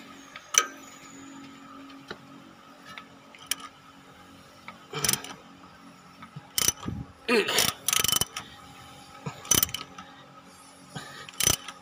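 Engine crankshaft of a Proton Wira, turned slowly by hand for timing-mark alignment during a water pump replacement, giving scattered mechanical clicks and ratcheting ticks with short louder bursts in a quiet workshop.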